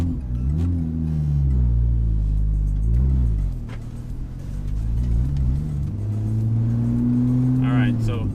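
An 800+ horsepower Porsche 911 Turbo pulls away on the road, its engine rumbling loudly and revving through rising and falling pitches with gear changes, close and continuous.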